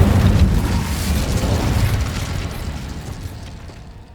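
A fire spell blasts in Hogwarts Legacy, a loud, deep burst of roaring flame and rumble that slowly dies away over about four seconds.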